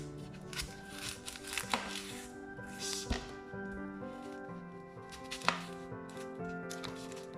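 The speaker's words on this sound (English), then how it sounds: "So first I'm going to clean the onion and chop it in very thin slices." A kitchen knife chops an onion into very thin slices on a board, giving irregular close taps and cuts over steady background music.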